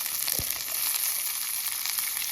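Cabbage and capsicum fry on a camping stove with garlic during a rainy night of camping, giving off a steady close sizzling hiss and one brief low knock near the start.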